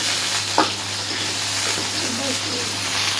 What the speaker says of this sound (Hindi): अच्छे से ब्राउन कर देंगे आलू